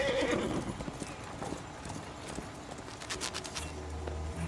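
A horse's hooves clip-clop at a walk in the video game Red Dead Redemption 2, with a snort or whinny at the start and light game ambience around the steady footfalls.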